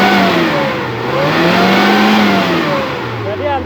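A Suzuki Carry engine running on LPG gas revs up and down, a loud, close mid-pitched motor drone rising and falling continuously without a break.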